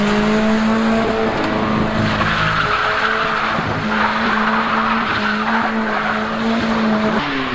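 An old car with a worn engine runs at full throttle as its tires spin and squeal, a loud sustained engine drone mixed with skidding screech, continuous and close throughout.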